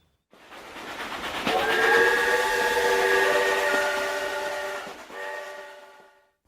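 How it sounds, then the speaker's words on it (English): A steam train sounds a long, loud chord-like whistle, pauses briefly, then blows again, with the hiss and rumble of the rolling train steady underneath. "City Mouse and Country Mouse take a train to the city"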